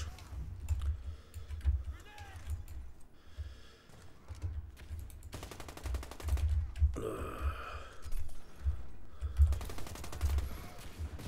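Sporadic gunfire and a flashbang in a first-person shooter match, with short bursts of shots and sharp bangs scattered across the stretch over low rumbling game noise.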